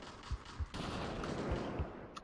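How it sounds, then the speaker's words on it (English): Gunfire in the virtual reality shooter Population: One during a team deathmatch in a city map, with several sharp shots in an irregular rhythm over a continuous noisy battle wash. "They're shooting at me."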